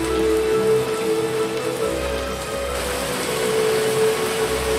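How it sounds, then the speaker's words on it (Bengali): Heavy rain falls at night in a cartoon scene, a continuous dense hiss of drops on surfaces with a low rolling undertone, steady and close, with no voices. "আর তার উপর এত বৃষ্টি হচ্ছে"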